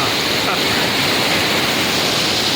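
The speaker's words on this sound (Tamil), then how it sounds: "அருவி மாரி ஊற்றுதுங்க" Water pours into a lake like a waterfall, a loud, constant, close rushing roar that fills the whole stretch without a break.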